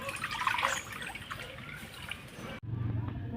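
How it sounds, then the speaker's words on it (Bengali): Water pours into a pot on a village stove, a splashing, trickling stream that stops abruptly, followed by a low steady rumble. "তো আমি যে এখানে পানি দিয়ে দিতেছি চুলাতে।"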